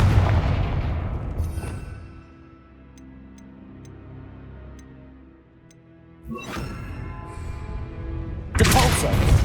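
Confringo fire spell cast in Hogwarts Legacy, heard as a loud burst at the start that dies into a low rumble with faint ticking, followed by further sharp blasts later, including a bright crackling hit near the end.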